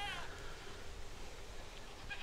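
Goat bleating at its pen on a farm, a few wavering cries at the start and near the end over steady outdoor background noise, fairly close.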